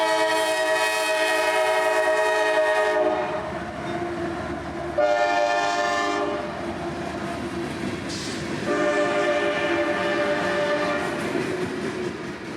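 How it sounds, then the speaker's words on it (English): A massive CSX freight train, L795 out of Moncrief Yard, passes at Folkston with a loud, sustained air-horn blast broken into several sounding bursts over the steady rumble of wheels and cars rolling by. "L795 would live up to its name today, with a massive train from Moncrief Yard"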